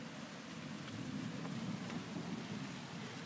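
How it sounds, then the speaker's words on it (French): A strong thunderstorm with hail, rain and wind in Amboise, France, makes a dense, steady roar of pouring rain and low rumbling that fills the whole stretch. "Il y a de la grêle, il y a du vent, il y a de la pluie, il y a des éclairs et beaucoup de bruit."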